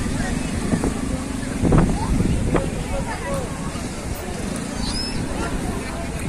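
Evening sea wind gusts steadily across Mandarmani beach near a crowded beach market, a constant rushing blow with faint crowd murmur and scattered distant voices underneath and one brief louder buffet partway through.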